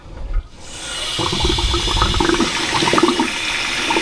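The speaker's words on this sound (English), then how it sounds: "Fill your bucket up, fill full of water." Water gushes steadily into a bucket, a close, rushing splash that continues without pause and with no voices.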